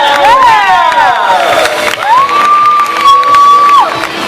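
Audience cheering at a Fear Factor Live stunt show, a loud crowd roar with whoops and shouting under a sustained rising tone from the show's sound system.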